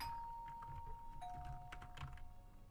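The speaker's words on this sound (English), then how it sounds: "Ringing the really loud doorbell." Really loud doorbell in the video game Hello Charlotte, a steady electronic ringing tone that shifts pitch partway through, with faint tapping clicks in the background.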